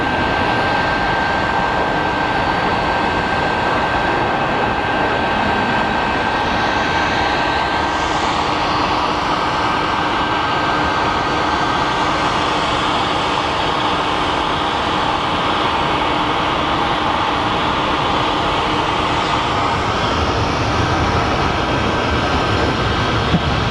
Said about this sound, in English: our flight to Houston is on full roll